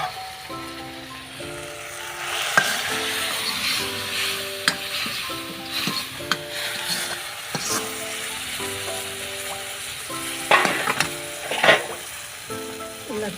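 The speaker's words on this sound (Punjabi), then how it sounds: "ਪਿਆਜ਼ ਬਰਾਉਨ ਹੁੰਦੇ ਪਏ ਆ ਤੇ ਭੁੱਜਦਾ ਫਿਰ ਤੜਕਾ" Onions for a dal tadka fry in a pan on a makeshift brick stove, with a continuous close sizzle and a few sharp scrapes of stirring. Steady tonal music plays underneath.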